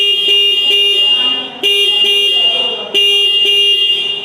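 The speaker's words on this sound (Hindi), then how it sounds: "अब देखते हैं हम लोग CT 125 का हॉर्न।" A Bajaj CT 125 motorcycle horn honks three times in long, steady blasts with short gaps between them, loud and close, with no talking.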